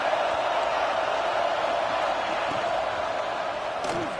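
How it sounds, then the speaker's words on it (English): A packed football stadium crowd at a Texas versus Georgia game roars in a dense, continuous wash of cheering and shouting, loud and steady with a commentator's voice faintly underneath. "Listen to the crowd energy here in the early going"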